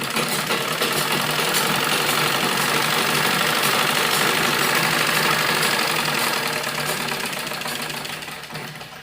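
A sewing machine runs steadily while stitching fabric along a curved seam for an umbrella frock, a continuous close whirring hum that tapers off near the end.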